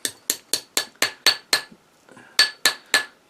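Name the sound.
hammering a silver ring to work harden it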